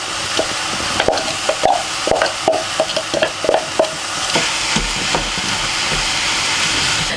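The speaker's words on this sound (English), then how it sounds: "When the onions are like this tender, I can add the chilies." Chilies frying with tender onions in a pan for vegan sambal petai, giving a steady hiss with irregular crackles and stirring scrapes, close and fairly loud, with no talk.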